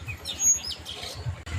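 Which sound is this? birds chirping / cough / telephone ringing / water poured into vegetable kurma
birds chirping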